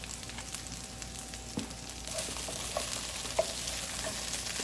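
Dal puris frying in hot oil give a steady, soft sizzle with faint crackles and a few small pops, moderately quiet and alone.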